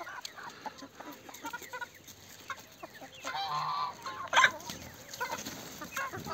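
Geese honk in short bursts amid farmyard clucking, with a loud honk near the middle and scattered calls around it.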